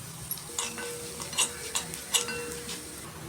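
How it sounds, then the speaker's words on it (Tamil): Pepper and cumin seeds are dry-roasted in a pan. Quiet, scattered scrapes and light ticks of seeds being stirred against the metal surface come and go over a soft background, with no talking. "இப்போது ஜீரகத்தையும் அதில் போட்டு வறுத்துக்கிறேன்."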